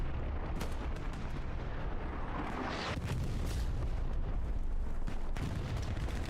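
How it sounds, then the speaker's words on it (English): Dense, continuous battlefield din from the World War II shooter Hell Let Loose, with overlapping gunfire and heavy artillery explosions rumbling steadily throughout and no voices. "it was so loud with all the gunfires and explosions going off"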